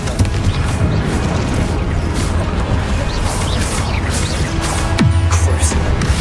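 Confringo blasting spells in Hogwarts Legacy hit with booming, crashing explosions over a dense, loud wash of game combat noise, several impacts landing in quick succession.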